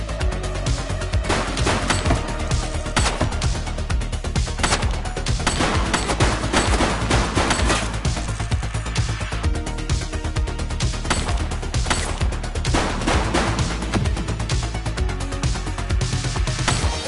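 Gunfire in the police game The Precinct comes as a dense, continuous fusillade. Loud rapid shots and bursts pile up without a break for the whole stretch, with crashes mixed into the barrage.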